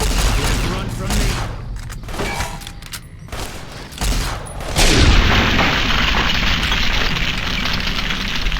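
Companion gunfire in Fallout: New Vegas, dense bursts of shots and booming blasts in close succession, growing into a loud sustained barrage toward the end.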